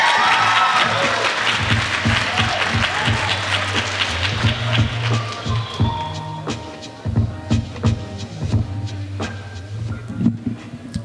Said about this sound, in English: let's clap up our next storyteller, Stella Hassan.